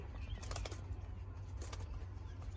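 A female pigeon takes off outdoors, its wings flapping in a quick, faint, fluttering rush amid steady low background rumble.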